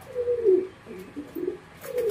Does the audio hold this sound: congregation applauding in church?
no